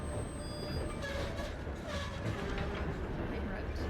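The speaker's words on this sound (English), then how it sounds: "I hope it stops here so I can get off this train." Steady rumble of a train riding along the rails in a video game, a continuous low rolling drone with faint high squeals, while a voice talks over it.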